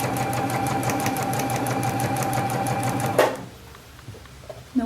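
A sewing machine stitches shirt fabric with a rapid, steady mechanical chatter that runs loud and close, then stops abruptly, leaving quiet handling noises.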